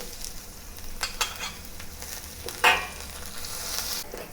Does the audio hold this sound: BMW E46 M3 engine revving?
no